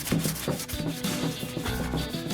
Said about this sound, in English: uses a fine grit sanding sponge to rough up the finish